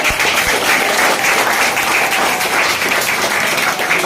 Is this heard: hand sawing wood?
no